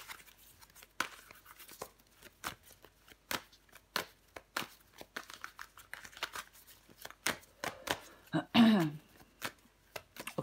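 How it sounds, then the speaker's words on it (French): Tarot cards laid down one after another on a table, giving a run of soft, close, irregular taps and slides with a brief shuffle-like rustle near the end, under no talk. "Je vais recouvrir des cartes."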